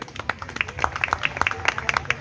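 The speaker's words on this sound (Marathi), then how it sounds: "तर त्यांच्या या कविमनासाठी जोरदार टाळ्या आधी" An audience clapping in a hall, a dense burst of many hands applauding at a lively steady pace, fairly close and loud, with some voices mixed in.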